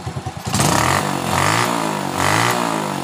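Honda Supra Fit motorcycle engine revving up close after a rough idle, rising in two strong throttle blips over a steady running drone, with no talk.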